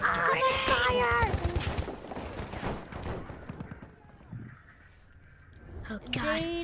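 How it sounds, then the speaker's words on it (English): Machine gun fire rattles in a war video game amid shouting voices, a dense burst of shots in the opening seconds that thins to scattered reports, then quiets before voices return. "He was burnt alive, then quickly shot down by machine gun fire."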